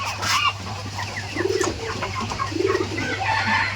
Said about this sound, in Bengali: এই যে আমার চীনা হাঁসগুলা ছেড়ে দিতেছি